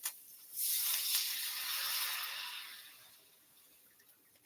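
Water poured into a pot of curried crab legs with scallion and thyme, a soft hissing rush that swells, holds for about two seconds and fades, with a faint clink at each end.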